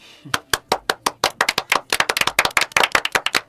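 Audience clapping for presidential candidate M. Collet at a campaign rally: a dense, steady run of sharp hand claps, close and fairly loud, with no talk over it.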